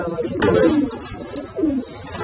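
Cuban pigeons give two low, throaty coos close by, one after the other, over faint background noise.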